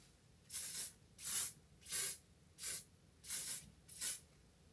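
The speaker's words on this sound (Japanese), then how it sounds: "スプレーしますね。" Hair spray from an aerosol can is sprayed onto styled hair in six separate bursts, each a short hiss of about half a second with brief pauses between them. The hissing is heard alone, with no talk over it.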